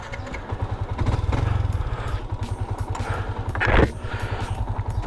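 A close motorcycle engine, an RCB S2 single-footrest setup, runs with a loud, rapid, pulsing idle that surges briefly in revs near the end, with no talk.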